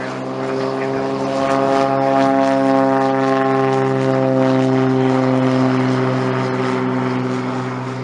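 Goodyear blimp making a low fly-by over Santa Monica Airport, a steady loud droning engine hum with strong tonal layers that swells slightly and holds for several seconds.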